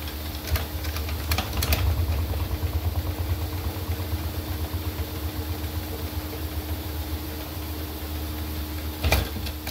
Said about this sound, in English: ingenious use of centrifugal force to throw that honey out of the frames. We'll spin it 3 or 4 times.